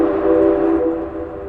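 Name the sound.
train running on railway tracks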